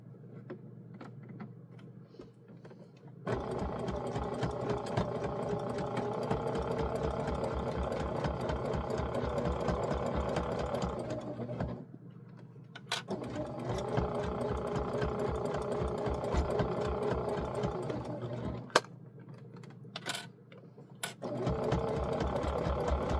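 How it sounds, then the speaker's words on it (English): A sewing machine runs in long steady stretches of rapid stitching a quarter-inch hem on a towel, stopping briefly between runs, close and moderately loud. "Now we go back to the sewing machine and we're going to put a 1/4 inch hem on here"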